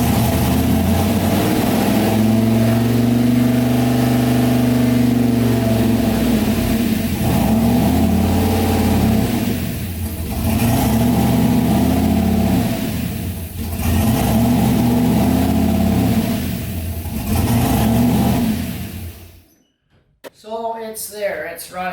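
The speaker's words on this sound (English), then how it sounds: "That's basically the first start and run with the new intake on also." An engine fitted with a new intake starts and runs for about twenty seconds, with a loud, steady rumble that rises and falls in revs before cutting off abruptly, followed by a moment of quiet and brief talking.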